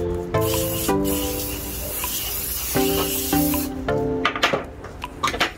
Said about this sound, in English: With a non-stick spray, I've oiled my pan.